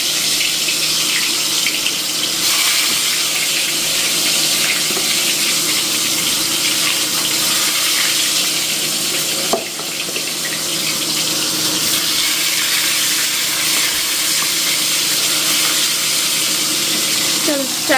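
Pieces of bhetki fish fry in a pan, giving a loud, steady, hissing sizzle that carries on without a break, with a faint voice talking underneath.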